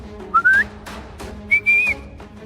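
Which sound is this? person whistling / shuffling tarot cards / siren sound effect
person whistling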